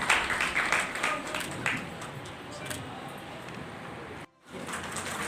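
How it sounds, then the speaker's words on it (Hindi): Applause welcoming a guest at a teachers' association gathering: a continuous wash of clapping from a crowd, strongest in the first two seconds and then steady, with a brief dropout near the end. "जोरदार तालियों के साथ में है कपड़ा सिंह जी का स्वागत किया।"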